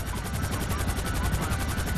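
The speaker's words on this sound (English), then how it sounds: "I took a helicopter." A helicopter in the video game GTA V Online roars with fast, steady rotor chopping and a dense engine whine, loud and continuous with no pauses.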